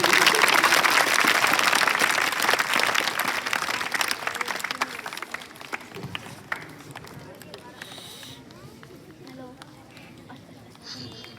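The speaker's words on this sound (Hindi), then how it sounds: "जोरदार तालियों के बीच" Loud applause for Mrs. Pushpa at a school farewell, a heavy crowd clapping that is strongest at the start and gradually thins and fades, with scattered voices and murmurs in the room.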